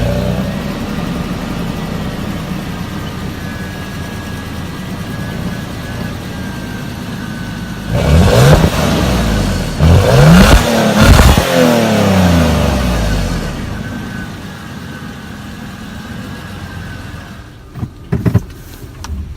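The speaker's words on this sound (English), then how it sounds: "I'm going to turn the car on and rev it a few times," A Toyota Land Cruiser Prado 120 series SUV idles steadily, then its engine is revved several times in quick succession before settling back to idle, loud and close, with a few clicks near the end.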